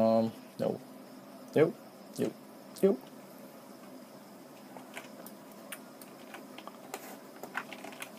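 A few sharp computer keyboard clicks, the Shift D shortcut pressed while working in Maya, sounding close and quiet as isolated taps with lighter clicking afterward.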